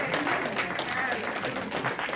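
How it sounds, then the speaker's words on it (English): Congregation clapping during a church sermon, a busy close wash of applause with voices mixed in beneath it. "Give yourself a round of applause up in here."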